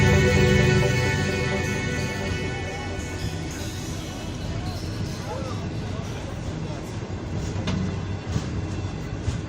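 A Nigerian railway train rolls past close by, a steady broad rumble of wheels and carriages that starts loudest and settles into a continuous drone, with people talking over it.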